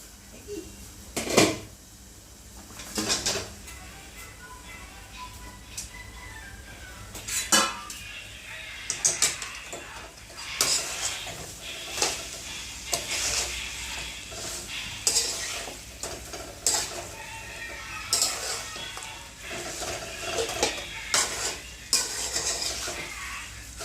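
Chicken pieces tipped into a pan of masala and stirred for a Kerala-style home-cooked dish: repeated metal spoon scrapes and clanks against the pan over a faint sizzle, close and irregular, with no talk.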